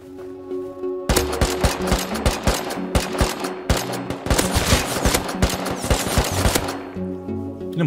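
Rapid gunfire in the survival game Rust, loud and close, with bursts of automatic shots and single cracks running for about six seconds, then easing off into ambient game sound.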